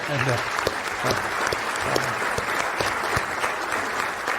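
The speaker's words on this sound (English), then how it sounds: "I think we should give them another clap to keep them going" An audience at a memorial event applauds a group of partners in sustained, full clapping that carries evenly throughout, with a voice faintly present underneath.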